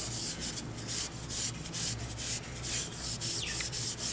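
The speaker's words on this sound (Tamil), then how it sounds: "புளி போட்டு வளர்க்கி முடித்ததுக்கப்புறமா சாம்பலையும் தொட்டு வளர்க்குறேன்." Steady, repeated gritty scrubbing strokes of a brass pot being rubbed with ash, close and continuous, with no voices.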